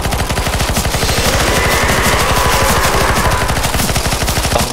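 Rapid automatic gunfire in the CS:GO Zombies game on the LOTR Isengard map, shooting at a spider, a loud, dense, continuous burst of shots that carries on for the whole stretch.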